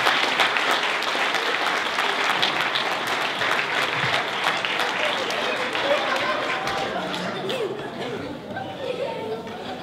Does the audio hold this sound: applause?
yes